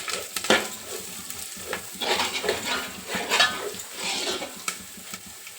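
Curry leaf sprigs with their stems drop into ginger frying in oil for a fish pulusu, setting off a loud, close sizzle with stirring and scraping throughout.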